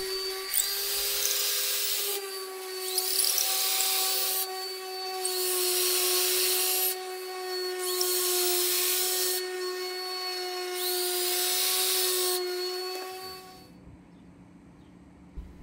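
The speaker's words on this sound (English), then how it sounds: "A guide is made so that holes in the posts can be precisely and consistently drilled." A power drill bores holes through deck railing posts held in a drilling guide. Three or four long, steady whines come close and loud, with short pauses between them, and the motor winds down at the end.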